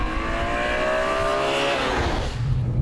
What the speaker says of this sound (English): everything you're hearing comes from the actual exhaust and from the engine